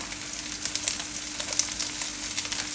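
Red chili powder hits lobster curry masala frying in a pan, giving a steady close crackling sizzle with small sharp pops throughout.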